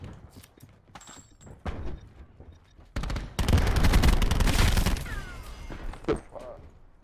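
Gunfire in a shooter video game: scattered shots early, then a dense sustained burst of rapid fire mid-clip, with a player talking around it.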